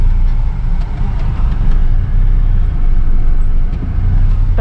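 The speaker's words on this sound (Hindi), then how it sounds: "वीकेंड ट्रैफिक लगा हुआ है, सैटरडे का ट्रैफिक है सारा।" Saturday weekend road traffic rumbles loudly and steadily nearby, with passing cars, buses and trucks and continuous engine noise.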